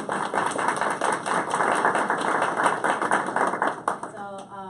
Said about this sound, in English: one more time, a round of applause for our members